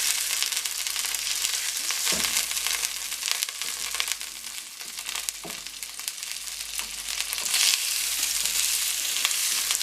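Pork and onions sizzle steadily in a hot pan on high heat for chow mein, a close, continuous frying hiss with occasional stirring scrapes.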